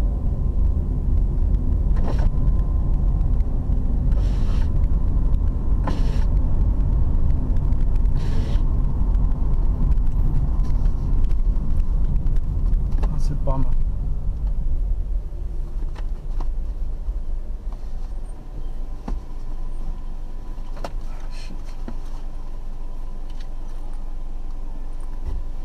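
The interior of a car driving past Kenneth Kaunda International Airport in Lusaka fills with a continuous low engine and road rumble and occasional clicks and rattles. The noise eases slightly in the second half.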